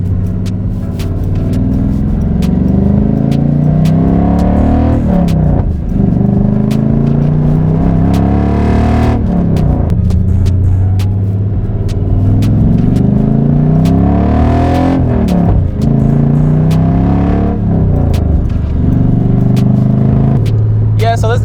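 A widebody Nissan 300ZX with a swapped VH45 V8 drives on, its engine note a loud, steady rumble throughout. Several rising surges of acceleration fall back as gears change. The engine is cutting out at high RPM.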